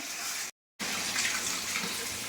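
Chicken pieces are washed under a running tap, a steady rush of water that cuts out briefly and then flows again, close and moderately loud.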